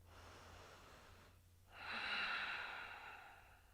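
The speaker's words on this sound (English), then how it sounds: "Coming back to that Ujjayi breath" Slow Ujjayi yoga breathing during a flow class: one long, close, airy breath that swells from a soft start into a fuller, hissing ocean-like rush after a brief pause, then tapers, with no talking.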